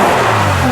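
A Lamborghini GT1 Murcielago race car engine roars in a short, loud, sustained rev burst heard close up.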